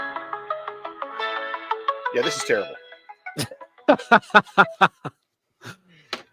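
A short AI-generated news theme tune plays tinny and thin through a phone speaker, with quick stepwise notes, before a person speaks over a series of plucky, clipped sounds.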